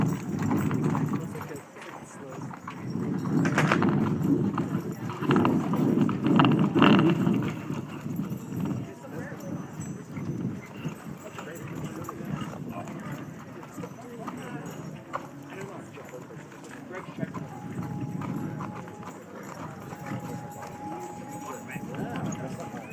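Hooves of a horse trained in the old Spanish tradition clip-clop steadily through a few riding maneuvers, close and fairly loud, with someone talking over part of it.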